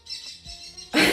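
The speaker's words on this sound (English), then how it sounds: "This bird is very talkative today." A bird chirps near a home indoor setting, giving a few thin, quick tweets followed by a louder, brighter burst of calls at the end, with no talk over it.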